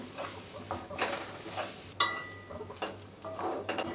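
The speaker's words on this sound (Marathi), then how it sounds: "कांदा आणि खोबरं आणि हिरवी मिरची हे सगळं भाजून घ्यायचं आहे" Onion, coconut and green chilli roasting in a pan while a spatula stirs and scrapes, giving soft intermittent scraping and clinking over a faint low hum.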